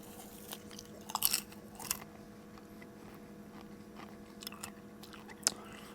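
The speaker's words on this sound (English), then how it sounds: "they don't like listening to people chew food on videos" Someone eating popcorn made in a popper run from an AllPowers R2500 power station, giving a few sharp, close crunchy bites around the start and middle and another near the end over a steady low hum, with no talking.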